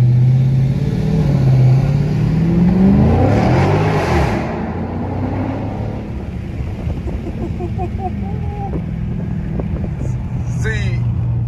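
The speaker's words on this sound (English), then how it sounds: "if it's one thing I love about owning a Dodge, it's doing tunnel pulls" A Dodge car engine revving through a tunnel pull, loud and rising with wind rush over the microphone, then easing into a steady drone while a voice talks over it.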